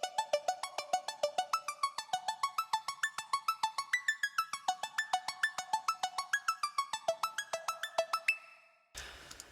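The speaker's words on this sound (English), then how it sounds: "Then there's the kalimba again, it comes in" Kalimba plucks in a song build-up, a rapid steady run of bright tuned notes climbing in pitch over about eight seconds, alone and fairly soft, cut off abruptly near the end.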